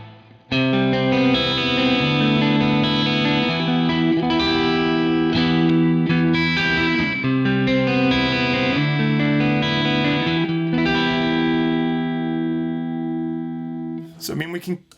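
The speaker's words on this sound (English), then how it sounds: "Let's try out some reverb." An electric guitar played through a ToneX amp modeler with reverb switched on rings out in sustained chords and notes that hang and decay. The playing continues for about fourteen seconds before a short burst of noise at the end.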